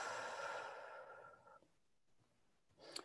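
A single long, breathy exhale from a person doing a slow guided breathing exercise, close and soft, fading into quiet with a faint breath noise near the end.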